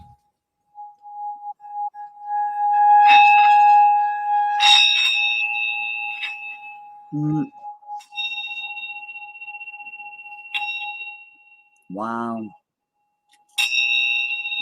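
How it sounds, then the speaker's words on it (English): A bell built together with a singing bowl is struck several times, each strike leaving a clear, sustained metallic ring that hums and fades slowly. A person gives brief murmured reactions between the strikes. "This bell is one of the. It's a bell and a singing bowl all together."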